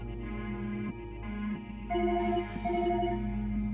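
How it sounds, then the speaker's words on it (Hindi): A telephone rings with a repeating electronic tone, pausing briefly between bursts over a low steady hum, with nobody talking. "फोन बज रहा है"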